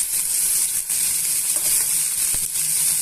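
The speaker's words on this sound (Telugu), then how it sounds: "కొత్తిమీరని యాడ్ చేసుకొని ఇవన్నీ కూడా బాగా మిక్స్ చేసుకొని వేయించుకోవాలండి." Peanut chutney mix with fresh coriander frying in a pan, a steady close hiss of sizzling oil with a few soft scrapes and clicks of stirring, no voices.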